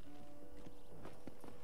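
Hooves of a spotted horse clip-clop in Red Dead Redemption, a steady walking rhythm of soft, close hoof strikes set against low, constant game ambience, with no voices.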